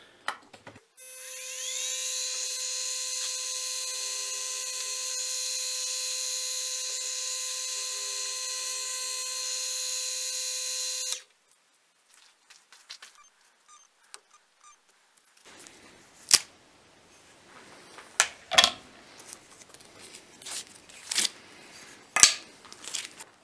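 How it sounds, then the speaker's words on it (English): A power drill bores pinholes in knife handle material: a high steady whine spins up and runs for about ten seconds, then stops, followed by scattered clicks, taps and handling noises at close range. "So let's go ahead and get these pinholes drilled."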